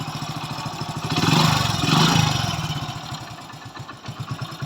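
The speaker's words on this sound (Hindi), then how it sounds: "तो सबसे पहले इंजन की साउंड देखें" A motorcycle engine runs steadily with a pulsing, thumping idle that swells louder for a couple of seconds, then settles back to a chugging rhythm.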